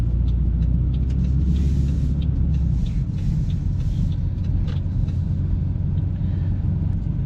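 Car on a Nova Scotia road test in Sackville completing a turn at a light; a steady, close interior rumble of engine and road noise throughout, with no speech.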